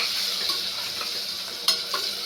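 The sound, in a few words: spices frying on low gas for dudhi bhaji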